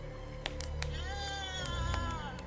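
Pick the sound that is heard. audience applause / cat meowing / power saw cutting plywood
cat meowing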